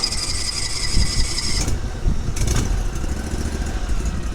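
A vehicle engine being started with the clutch in and choke pulled, heard as a close, rough rumble with brief surges and a continuous mechanical drone, no voices.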